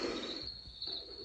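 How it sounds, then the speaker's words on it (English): Crickets chirp from a white noise machine, a steady high, faint trilling over soft background hiss. "A little bit of crickets."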